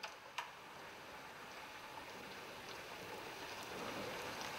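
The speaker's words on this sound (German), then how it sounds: "Ja, Tatsache, es regnet." Steady rain falls outside, a soft continuous hiss with a few sharper drip ticks near the start, heard faint and distant with no voices.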